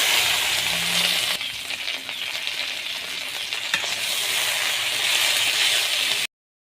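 Red amaranth leaves, home-grown, fry and stir in a pan with a steady close sizzle and hiss lasting the whole stretch, broken by a few scraping spoon taps.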